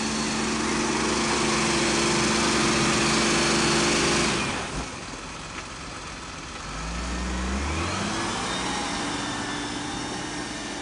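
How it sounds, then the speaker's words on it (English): A MAN 26.430 6x2 truck's engine labours loudly on a soft dirt road, roaring steadily, then dropping off as it stalls before revving back up to a strained drone as it tries again. "The soft dirt road easily sinks, causing the truck to stall, forcing it to back up and gain momentum a few times before it can pass."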